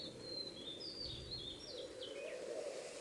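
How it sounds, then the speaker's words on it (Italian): A robin sings outside a window in a garden, a string of thin, high chirps and short trills, faint and somewhat distant over a soft, steady low background. "era solo un piccolo pettirosso che cantava fuori dalla sua finestra"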